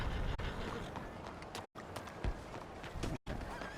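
Horse hooves galloping in Red Dead Redemption 2, a steady rapid clip-clop of running footfalls close by, broken by two brief silent gaps, with a voice faintly urging the animal on.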